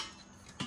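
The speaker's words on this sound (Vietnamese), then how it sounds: "Nắp vung này." One quick metallic clank from a stainless steel saucepan lid handled near the end, brief and fairly close against a quiet room.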